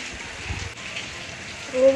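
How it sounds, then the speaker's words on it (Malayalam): Heavy rain falls steadily at home as a constant broadband hiss, with a person briefly speaking over it near the end. "മഴയ്ക്കൊരു കുറവുമില്ല, നല്ല മഴ."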